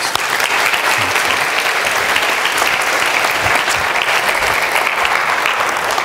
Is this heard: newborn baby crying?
no